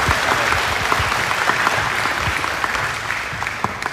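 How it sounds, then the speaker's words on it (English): Audience applause at a school Christmas concert in Pearsall, a close, dense patter of many hands clapping steadily for a few seconds with no talking over it. "they also deserve another round of applause"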